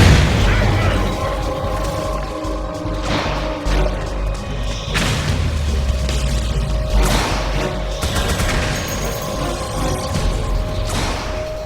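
Missile blasts and mechanical booms from the Metal Gear Solid 4: Guns of the Patriots video game, with several heavy explosive bursts and thuds over a dense, continuous battle soundscape, loud throughout.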